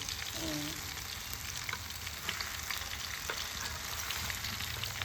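Mango pickle with sugar frying in a pan on a clay stove, a steady soft sizzle running through with occasional faint stirring scrapes, close and continuous with no talk.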